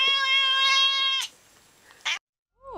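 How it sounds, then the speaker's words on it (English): A cat lets out one long, loud, drawn-out meow up close, followed by a short rustle and a brief bump before silence. "It was indeed a cat"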